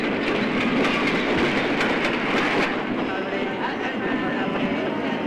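Train rumbling and clattering at a station in an old Tamil film scene, a loud continuous rolling noise with rail clicks, a voice speaking over it.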